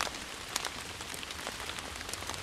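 Steady rain falling in the woods, a dense patter of drops on surfaces with scattered sharper ticks, soft and continuous for a couple of seconds.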